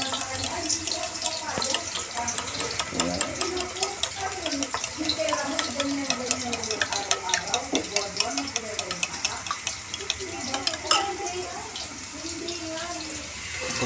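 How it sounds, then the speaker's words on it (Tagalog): Onions sautéing in a pan with eggs about to be added, a steady sizzle and stirring scrape running continuously with occasional clinks, a voice talking faintly over it. "Sasaluin po natin siya ng mga 5 minutes"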